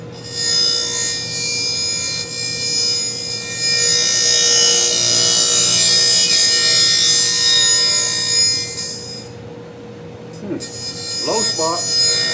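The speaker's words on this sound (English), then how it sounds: "let's grind the meat slicing blade. It's gonna get loud." A meat slicer blade being ground in a shop, producing a loud, steady, high-pitched abrasive grinding that holds for about nine seconds before cutting off, followed by a brief quiet and a few clanks.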